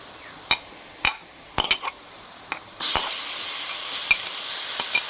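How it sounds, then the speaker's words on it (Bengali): Onions browned in a pan for duck curry, now joined by spices, sizzle loudly and steadily after a few sharp clinks and scrapes of a spoon stirring against the pan. "পেঁয়াজ গুলা বাদামি কালার করে নিছি বাদামি এখন মশলাগুলা দিবে"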